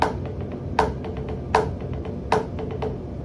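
Drum triplet strokes played with an overplayed accent, three sharp hits recurring about every 0.8 seconds over a steady background of lighter taps, fairly close and moderately loud.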